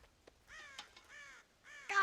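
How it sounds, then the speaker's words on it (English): Several crows caw harshly in Red Dead Redemption video game, three rough calls spaced across a couple of seconds, fairly close and clear, with a louder burst at the end. "God damn crows!"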